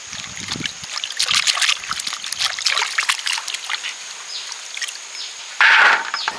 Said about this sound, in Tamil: முருங்கைக்காய் தண்ணியில் போட்டு கொஞ்சம் கழுவி எடுத்துருவோம்